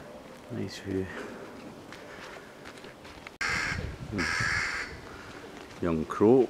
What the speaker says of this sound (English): Young crow.